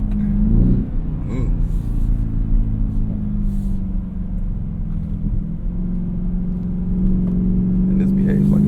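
A 2026 Ford F-150 Raptor R pickup in four-wheel-drive automatic with a 10-speed gearbox accelerates hard from a standstill, its deep, loud engine rumble building and droning steadily throughout while someone talks over it.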